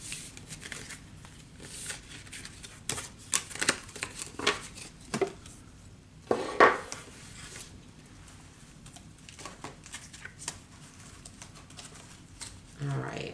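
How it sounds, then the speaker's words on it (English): Tarot cards being shuffled and pulled by hand: soft papery riffles and rustles come in uneven bursts, with a sharper slap near the middle, under faint background murmur. "let's pull some energy cards"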